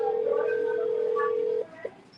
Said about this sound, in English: Her number's ringing now.